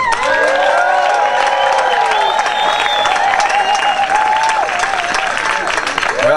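A large outdoor crowd cheers and applauds steadily at a Mardi Grass parade as the May Queen float is announced. The noise is loud and continuous, with whoops and shouts over the clapping.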